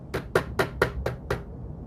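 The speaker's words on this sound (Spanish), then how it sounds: "fue entonces cuando tocaron la puerta" Six quick, evenly spaced knocks land on a door in the dark of night, crisp and close, followed by a brief quiet.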